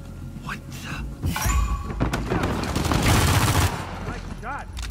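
Gunfire and impact thuds in the video game Uncharted 4 at Avery's town, dense bursts of shots with thumps under game dialogue and music, loud and sustained through most of the stretch.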